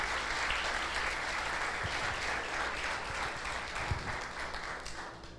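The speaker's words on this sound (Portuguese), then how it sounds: "Você pode aplaudir bem forte o Senhor?" A church congregation applauds loudly during a worship service, a dense, steady wash of clapping that fills the whole stretch and thins slightly toward the end.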